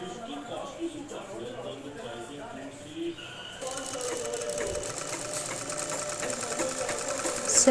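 Sewing machine stitching piping along a marked line on a blouse made from a saree piece, first a soft intermittent whir, then a louder steady rapid hum of continuous stitching, close by, with a person talking over the early part.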